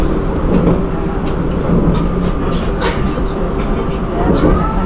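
A Paris metro train runs loudly and steadily, with a deep continuous rumble, rattling and clicks of the cars, and faint voices in the background.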